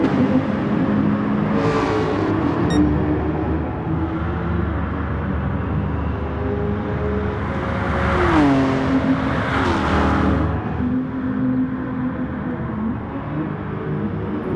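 A Honda NSX sports car races on a track during a five-lap battle against rival cars, its engine droning steadily with rising and falling revs and surges as other cars pass, loud and continuous throughout.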